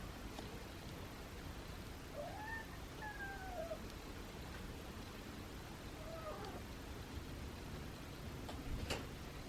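Several cats meow softly in short, faint calls over steady background hiss, with an occasional light tick or rustle nearby.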